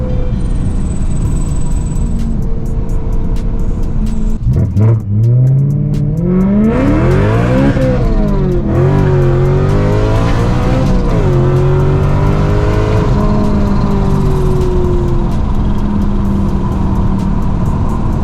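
A supercharged BMW M3 drives and accelerates hard, its engine climbing through rising revs with gear-change dips over steady road roar, loud and close from inside the car.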